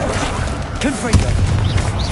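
Confringo spell blasts booming in the Hogwarts Legacy video game, a dense rumbling burst with sharp impacts layered over game music and effects, alongside a voice shouting.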